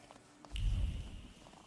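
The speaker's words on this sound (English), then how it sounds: "I feel like I hear a cat." A cat purrs softly in the video game The Thaumaturge, a brief low rumble rising for about a second against quiet ambience.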